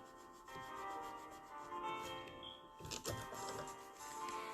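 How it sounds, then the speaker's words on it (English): A lint-free pad soaked in 91% alcohol wiped across a nail, a soft close rubbing and scuffing with a few brief sharper scrapes, quiet and without speech. "I'm just taking it on a lint-free pad and I'm wiping off the nail"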